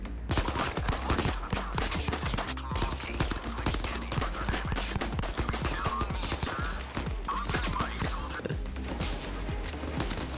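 Dense gunfire in the WW3 shooter Zero Caliber, with pistol shots mixed into a constant crackle of rapid bursts from several weapons. The shots are loud, near and overlapping with almost no gaps, and faint voices sit underneath.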